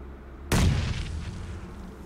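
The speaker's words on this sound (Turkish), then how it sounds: "Al bakayım şöyle bir normal öylesine bomba atayım." A single sharp grenade explosion in PUBG bursts out of near silence, loud and close, then trails off into a rumbling decay.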